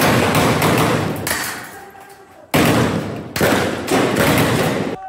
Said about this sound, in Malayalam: എങ്ങും വെടിയൊച്ച.